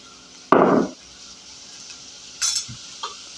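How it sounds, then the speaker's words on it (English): A sudden loud burst of sizzling as shiitake mushrooms hit hot olive oil, fading within half a second, followed by a few light clatters of stirring. "we're going to go ahead and put our shiitakes in there. Ooh, hear that sizzle?"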